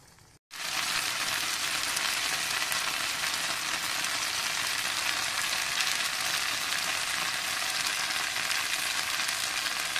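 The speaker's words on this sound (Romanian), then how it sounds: "Cât timp se prăjesc cartofii" Steady, dense sizzling of potatoes frying in a covered pan, loud and close, continuous with no pauses after a brief quiet start; no voices.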